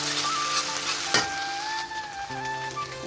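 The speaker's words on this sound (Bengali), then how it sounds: "এবারে দিয়ে দেবো আদা রসুনের পেস্ট।" Ginger garlic paste sizzles steadily as it fries in a hot pan, with a continuous crackling hiss, a brief stirring scrape partway through and no talking.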